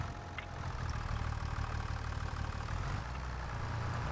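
A farm tractor engine in Farming Simulator 25 runs at a steady low idle-like rumble, hauling round bales of hay; a continuous, moderately loud drone with no voices over it.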